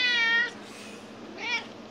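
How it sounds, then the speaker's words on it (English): A cat meowing loudly: a long, strident yowl followed by a second, shorter meow, close and alone with no talking. "it's the screaming cat!"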